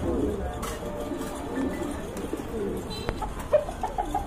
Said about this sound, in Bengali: এই যে দেখেন আরেক জোড়া কবুতর, এটা একসময় সবার পছন্দের কবুতর, এখনো অনেকেই পছন্দ করে, বোম্বাই কবুতর।